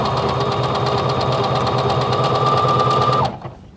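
A sewing machine stitches ribbing onto the hem of a knit garment, a loud, fast, steady mechanical whirring rhythm that runs continuously and then stops just before the end.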